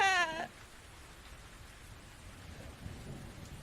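Steady rainfall with low thunder rumbling in The Invisible Hours, opening with a brief bright chime before settling into an even, moderately loud wash of rain, no one speaking.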